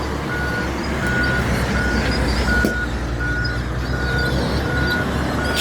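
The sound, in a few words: truck reversing with backup beeps at a dump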